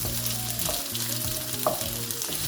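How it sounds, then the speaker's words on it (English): Carrot stir-fries in a pan for spaghetti, giving a steady close sizzle. Periodic scraping and clattering stir strokes sit over it, and a brighter clink comes near the end, with no voices. "So from here too, I'll just give it a stir fry for a while, allow it to cook for some time."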